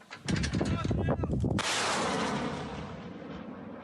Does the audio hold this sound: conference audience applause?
no